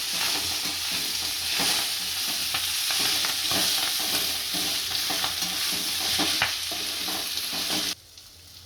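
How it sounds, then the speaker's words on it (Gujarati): Fenugreek leaves fry in hot oil in a pan, giving a loud continuous sizzle with scraping stir strokes, close up and steady before dropping away at the very end. "તેલ આપણું ગરમ થઈ ગયું છે, આની અંદર આપણે મેથી નાખીશું અને શેડવી લઈશું"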